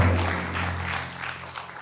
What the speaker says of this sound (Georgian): ყურადღებით აპლოდისმენტები მეგობრებო